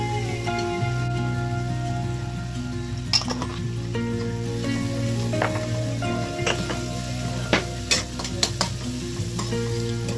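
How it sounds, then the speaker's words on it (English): Vegetables and spices sauté in oil for makki ki roti and sarson ka saag, a steady close sizzle with a low hum underneath and occasional sharp spatter pops and spoon clicks, no voices. "Need to saute the vegetables and spices till it releases oil."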